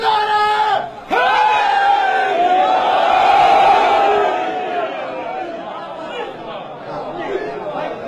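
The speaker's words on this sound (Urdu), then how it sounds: "امام کی تعظیم کے لیے نعرے کا جواب دے" A large crowd responds in unison with a loud, sustained chant of a slogan honouring the Imam at a religious gathering for Shab-e-Barat, the voices swelling together and then tapering off.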